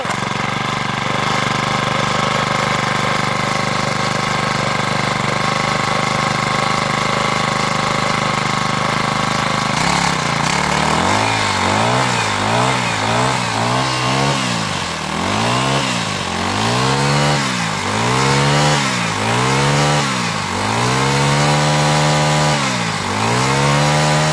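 A small farm machine's engine runs steadily and loudly for a while, then revs up and down in repeated rising and falling surges as the leftover fuel in its carburetor burns off; no talking.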